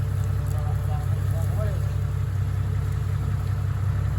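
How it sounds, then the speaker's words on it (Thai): A vehicle engine idles steadily during a check on temple grounds in Udon Thani province, Thailand, giving a constant low hum throughout with a faint voice briefly over it. "เช็คเครื่องยนต์นะครับ"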